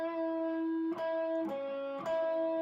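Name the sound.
electric guitar lick from a rock song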